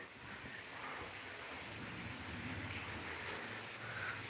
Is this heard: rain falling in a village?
yes